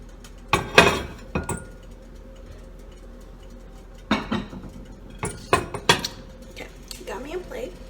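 A ceramic plate clinks against cutlery and dishes while Parmesan-crusted chicken is served, with several sharp, close clatters in scattered bursts and a voice speaking in between.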